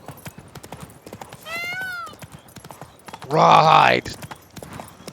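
Roach, the horse in The Witcher 3, trots along with a brisk, steady clip-clop of hooves, whinnies briefly, then lets out a loud, longer neigh, while someone speaks a single word over it.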